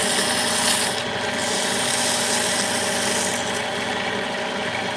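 Sandpaper rubs against a ring in a ring-making workshop, producing a loud, continuous, close rasping scrub that barely changes from start to finish, with no talking.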